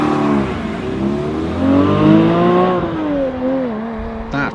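Porsche 718 GT4 with a 420 hp flat-six and manual gearbox pulling hard, the engine note climbing in pitch through the revs, dipping at a gear change and rising again, loud and close from start to finish.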